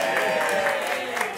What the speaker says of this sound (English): a round of applause for the machines